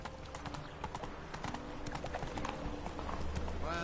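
Horse hooves gallop in rapid clip-clop rhythm in The Witcher video game, a steady close pounding with a brief whinny-like sound near the end.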